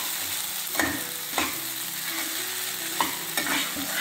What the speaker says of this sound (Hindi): इसे हम क्या ऊपर नीचे अच्छे से चलाते हैं।